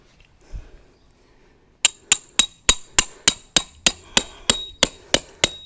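A Snow Peak copperhead hammer drives Snow Peak tent pegs into the ground for a hexa tarp: after a soft thud, about fourteen sharp metallic clinks ring out in a steady, evenly spaced rhythm, loud and close.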